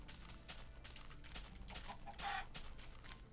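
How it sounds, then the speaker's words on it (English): A Minecraft chicken clucks when struck in the video game, a few quiet, short squawking clucks against soft background game sound. "I'm just gonna hit this chicken."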